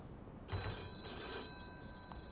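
Telephone ringing in the Mafia 2 video game, a bell-like ring bursting in after a moment with tonal trills, faint and somewhat distant with a second ring near the end.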